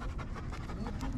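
A big dog pants close by outdoors, quick rhythmic breaths repeating loudly over a rough background, with faint voices nearby.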